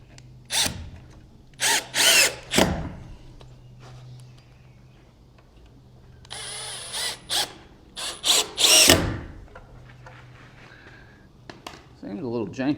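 A power drill drives a screw while a small cabin is being built. Several short, loud whirring bursts are separated by pauses, with a person talking in between.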